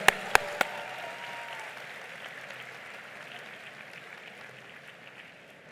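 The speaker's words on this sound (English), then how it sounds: "A big round of applause to all those who have got the medals today" At a university convocation, the audience applauds medal recipients with a quiet, steady wash of distant clapping that slowly fades, opened by three sharp nearby knocks or bangs.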